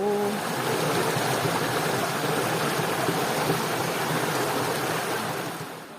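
A garden waterfall and stream flowing steadily, a loud continuous wash of rushing water close by that fades slightly at the very end.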